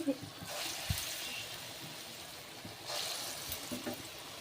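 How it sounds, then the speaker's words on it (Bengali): Chana dal fritters frying in hot oil, giving a soft, steady sizzle with faint crackles that swells toward the end, while someone talks over it. "এরকমভাবে সুন্দর করে লাল লাল করে বড়াগুলো ভেজে নেব"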